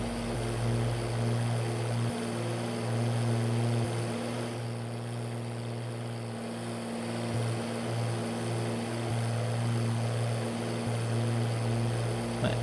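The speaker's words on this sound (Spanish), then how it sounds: "Lo que tiene que ser escape directo, ay Dios mío, él suena y suena." A video game truck engine with straight exhaust, from Euro Truck Simulator 2: a loud, steady drone with a deep exhaust rumble running continuously, its pitch shifting slightly as it holds revs.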